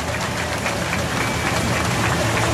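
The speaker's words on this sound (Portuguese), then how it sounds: "Uma salva de palmas para o nosso irmão Marcos Foco" Large crowd applauding at a samba school's technical rehearsal, a dense, continuous wash of clapping that stays loud and even throughout.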